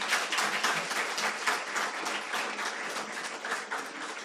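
A conference audience at the 2023 Maisha Conference claps in sustained, dense applause, steady and fairly loud throughout with no speech over it.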